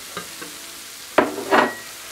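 Ground beef frying in a pan gives a low, steady sizzle, broken by a few soft scrapes and louder stirring bursts near the end, close up with no talking.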